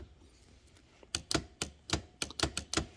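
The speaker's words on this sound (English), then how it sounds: "these early machines didn't really have what's called a silent carriage return that removes that clicking that you hear" Sharp mechanical clicks from a 1936 Klein-Urania typewriter's carriage return, a quick irregular burst of about nine loud snaps after a quiet first second, close and crisp.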